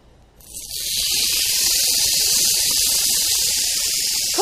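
A marinated catfish fillet goes into a very hot grill pan and starts sizzling at once, a loud, close hiss that swells within a second and holds steady.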